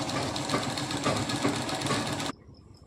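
A sewing machine stitches palazzo pants in a rapid, continuous mechanical whir with a steady chattering rhythm, loud and close, running alone for over two seconds before stopping abruptly.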